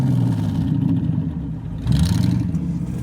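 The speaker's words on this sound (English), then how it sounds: "including this very loud Rolls Royce. The exhaust is down there well no, the exhaust is there, but the sound is coming from underneath." A loud Rolls Royce exhaust at a car show rumbles close by, then rises in a short, throaty rev partway through before settling back to a deep burble.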